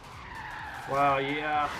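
Tires skidding and squealing as the brakes lock up on a rebuilt Mustang racing in Forza Horizon 3, a rising screech over the engine drone that swells sharply midway and holds briefly before easing.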